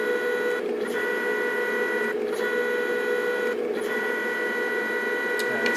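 An HP 2605 laser printer motor, PIC controlled, running in reverse gives a steady loud whine with stable tones, briefly dipping three times as the drive changes, close and continuous with no talking.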